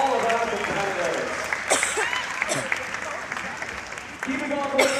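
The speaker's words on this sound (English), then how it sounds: "Let's get a big round of applause for all of our competitors." A crowd applauds competitors at a timed event, steady clapping and some cheering filling the whole stretch, with a presenter's voice talking over it.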